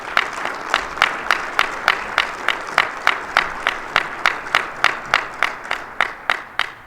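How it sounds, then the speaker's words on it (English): Rhythmic clapping at a mayor's State of the City address: sharp, evenly spaced claps about three per second, repeated steadily and fairly loud, with no voices over them. "A round of applause to them as well"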